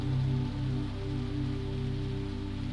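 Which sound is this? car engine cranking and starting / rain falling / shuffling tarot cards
rain falling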